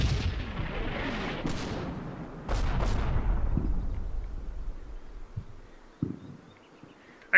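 Artillery harassing fire in the Combat Mission wartime strategy game, booming blasts with long rumbling decays, then a few lighter distant thuds and a sharp crack at the end.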